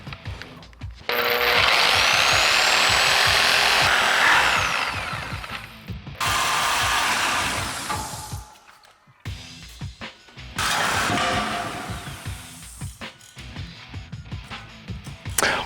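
A power tool cuts through a weld on a Jeep Wrangler JK frame crossmember, giving loud, harsh grinding bursts of several seconds separated by brief pauses, with rattling mechanical clatter between cuts and no talk.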